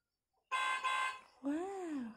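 A short bright electronic toot from a toy motorbike horn, then a bending, wavering beep right after it, close and fairly loud against a silent start.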